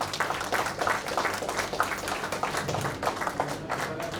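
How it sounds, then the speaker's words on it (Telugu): An audience at an 81st birthday celebration claps for the president, a brief burst of uneven applause of moderate loudness mixed with faint crowd chatter. "I request everybody to give big clap to our president"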